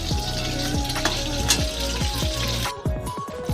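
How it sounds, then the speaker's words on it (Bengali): Fish fries in hot oil in a kadai, sizzling and crackling loudly and close with sharp spattering pops, then quieting slightly as the pieces are lifted out. "দেখো আমার মাছ ভাজাটাও হয়েছে এবার আমি মাছটা তুলে নেবো"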